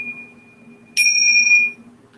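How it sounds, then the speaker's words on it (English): A single small yoga class bell is rung once, a bright sustained ring that cuts in cleanly and fades over about a second, alone over a quiet room hum. "Aiden will ring our bells."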